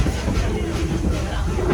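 A Greenfield Village Railroad train rolls into Smith Creek Station with a steady, loud rumble and clatter of wheels on rails, heard up close from aboard and running without a break.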